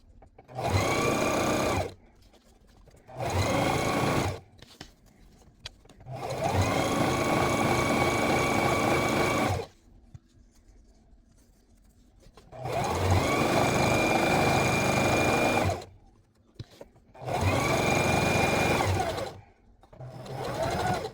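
A sewing machine stitches apron fabric up close in loud, steady runs: about five bursts of a few seconds each, separated by short silent pauses.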